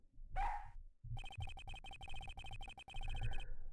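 A dog in the Ace Attorney Investigations video game gives one yelping bark, then a run of fast, clipped, synthesized bark blips repeating rhythmically under a low background rumble.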